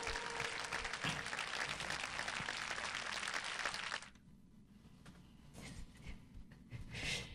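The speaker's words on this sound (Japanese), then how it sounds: "皆さん拍手でお送りください。" Steady, dense applause from the audience at a live concert in Tokyo, filling the hall for about four seconds before dropping to sparse claps and scattered crowd noise.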